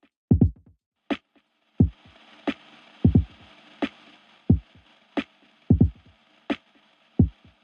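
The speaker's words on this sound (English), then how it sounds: "we can use a little vinyl noise to give it that rawness" Lofi drum loop with a vinyl noise effect, punchy kicks and snares in a steady groove over a continuous faint crackle and hiss bed, with no voices.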